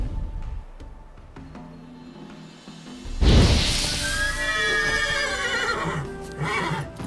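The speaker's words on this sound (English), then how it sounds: "Bloody fine mount. Good stance, powerful rump, stable withers." Horse in The Witcher 3 video game gives a loud, close neigh with a rising then falling whinny after some soft hoof and ambient sounds.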